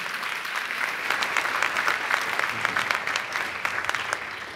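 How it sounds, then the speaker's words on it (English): An audience at the 2017 Harvey Mudd College commencement ceremony applauds the mothers on Mother's Day, a steady wash of many hands clapping that is fairly far off and continuous, with no voices over it. "Another applause for them, okay?"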